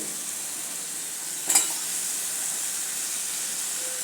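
Potatoes frying in a pan for a red potato bhaji give an even, close sizzling hiss with a brief sharper burst of crackle partway through, no voices.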